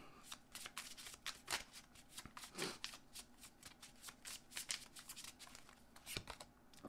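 Oracle cards being shuffled by hand during a relationship reading, a steady run of soft riffling and slapping bursts, close and fairly quiet, with no talking.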